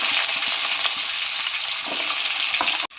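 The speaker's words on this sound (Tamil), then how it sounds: "இப்போ கட் பண்ணி வெங்காயம் சேர்த்துக்கலாம்" Chopped onions fry in hot oil that already holds whole spices, giving a loud, steady, close hiss of sizzling with faint stirring taps, which cuts off abruptly at the end, with no talk.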